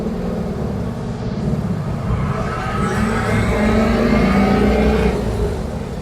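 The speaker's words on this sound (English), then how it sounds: "oh, that's that throwout bearing. That squeal." Worn throwout bearing on a 1965 VW Bus squealing as a thin steady whine over the loud, close, rumbling engine idle.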